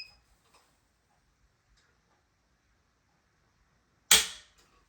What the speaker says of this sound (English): How much pressure you apply to the trigger before you hear the click is based on the poundage.